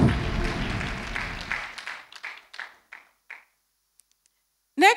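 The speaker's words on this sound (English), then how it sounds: "Please give a round of applause to a happy Mother's Day, Mrs. Ndlovu." Applause from a church audience at a Mother's Day celebration, a burst of clapping that fades into scattered, separate claps and then trails off to near silence before a short noise at the end.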